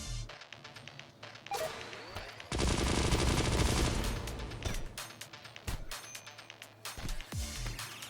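Gunfire in the colony game Rimworld: scattered sharp single shots, then a dense burst of rapid automatic fire for about two seconds, followed by more irregular cracks and pops, loud and close.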